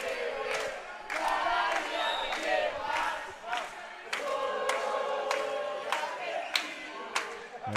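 Argentinian fans at a women's foam dodgeball world championship match against Mexico cheer and shout continuously, a boisterous crowd din punctuated by repeated sharp smacks and claps, with voices calling out over the noise.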